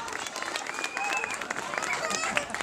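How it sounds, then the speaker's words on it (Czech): An audience at a Christmas-time performance claps steadily in a dense, even patter, while a voice carries on speaking over the applause. "zatleskáme ještě jednou velký potlesk"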